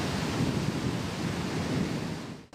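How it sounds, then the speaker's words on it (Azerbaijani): Sea waves roll in at a windy seashore, a steady wash of surf mixed with gusting wind that stays loud and continuous before cutting off abruptly at the end. "hazırda dəniz sahilində kifayət qədər külək var, kifayət qədər dalğa var"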